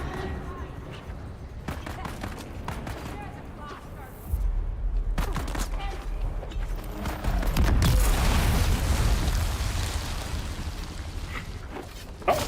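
Gunfire in the Dune: Awakening video game, with rapid bursts and scattered shots that grow denser and louder toward the end, under a steady bed of game noise while players talk.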